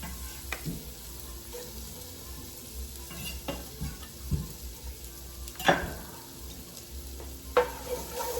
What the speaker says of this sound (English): Give that a little stir for about 1 minute. You do not want your garlic burning.